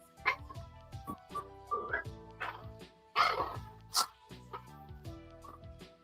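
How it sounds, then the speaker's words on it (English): A puppy lets out a series of high yips and barks at close range, bursts spaced irregularly over a faint background with a low steady hum. "That's your puppy starting this time."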